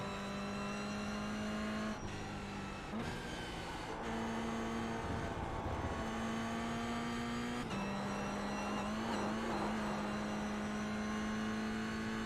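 A Toyota GR86 Cup race car laps Lime Rock Park with a steady, loud in-car engine drone, the pitch stepping with shifts and brief dips as the car brakes and turns.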